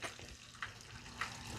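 Coconut-coated shrimp browning in a pan, a steady soft sizzle of hot oil with a few small pops, quiet and continuous.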